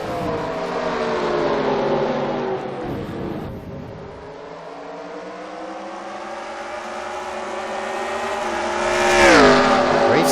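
Race cars scream through a video game race at Belle Isle in Detroit, engine whines rising and falling as they brake and accelerate, with a higher-pitched car swelling near the end.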